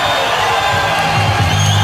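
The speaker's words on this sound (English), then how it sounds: "By the crowd reaction we got here, the best round of the night." A fight crowd at a 2004 Thiago Alves vs. Nuri Shakir bout roars and cheers after a round, a steady wall of voices and whoops that stays loud and dense throughout.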